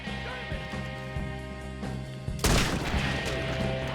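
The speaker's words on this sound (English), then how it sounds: "I'm gonna shoot you off that rock!" A sudden loud gunshot blast rings out in Red Dead Redemption 2 after a stretch of quieter ambient game sound, followed by a broad, crackling decay.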